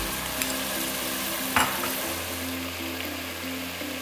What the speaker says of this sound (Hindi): अब इसको थोड़ा सा भूनना है, ये भुनेगा